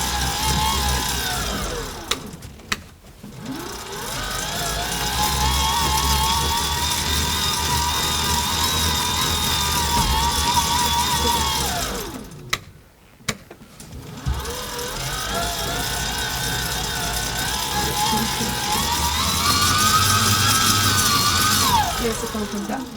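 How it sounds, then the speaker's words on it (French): A small motor in a sport-powered green energy generation project whirs steadily and close, with a rising and falling mechanical hum that cuts out briefly twice before spinning back up. "Là, il y a le moteur qui va."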